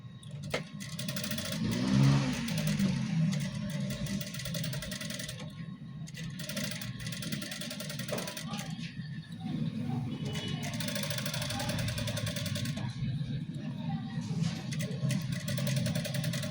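A sewing machine runs continuously, its motor whirring as it stitches a seam on a men's shirt. The sound is loud and close, with faint talk mixed in.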